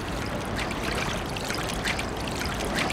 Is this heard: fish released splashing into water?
yes